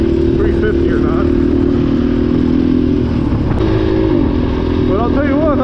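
KTM 350 dirt bike riding on a mild February day, with a steady, loud engine drone that holds throughout, a brief clunk midway and rising revs near the end.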